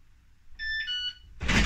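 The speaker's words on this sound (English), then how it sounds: "So it beeps." A Yale Conexis L1 smart lock gives a short beeping chime of a few clear electronic tones during key fob pairing, followed by a louder burst of handling noise.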